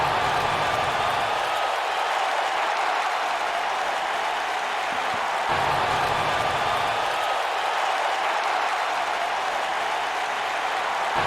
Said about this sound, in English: This crowd here in Albuquerque on their feet for The Rock.